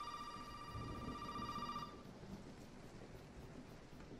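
A telephone rings in the horror game Resident Evil 7, a faint electronic ring lasting about two seconds over dark, low ambient rumble that continues afterward.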